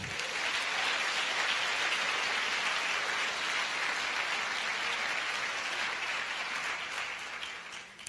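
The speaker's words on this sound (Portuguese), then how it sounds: "Aplauda o Senhor" A church congregation applauding the Lord during a service, a dense, sustained roar of many hands clapping that holds steady and tapers slightly toward the end.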